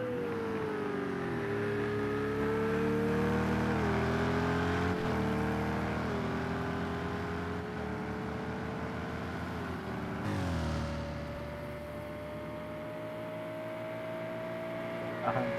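An Aston Martin GTE race car engine in Project CARS 2 at Road America drones steadily, its pitch dropping and rising through gear shifts, a sustained mechanical whine with a sudden shift near the end.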